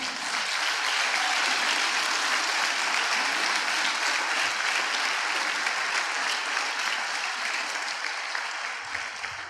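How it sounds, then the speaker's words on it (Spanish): Sustained, dense applause from a church-style gathering fills the room at an even level, steady and continuous throughout with no talking over it. "un aplauso a Dios, por favor."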